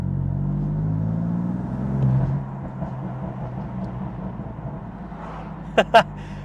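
A BMW M4 Competition's engine gives a deep, steady rumble while driving, with the drone easing slightly partway through and two short sharp clicks near the end.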